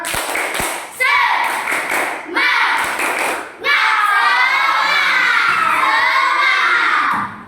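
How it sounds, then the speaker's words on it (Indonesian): Classroom of children doing the 'tepuk semangat' clapping chant at the end of a coding and artificial intelligence lesson, loud group clapping with children shouting and chanting together in a sustained, energetic burst. "Oke, kita kasih tepuk semangat dulu. Tepuk semangat."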